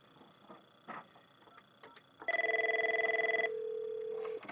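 A 5410/5420 office desk telephone rings with an incoming call, a steady electronic warble lasting about two seconds and then holding as a continuous tone, clear and close against a quiet room.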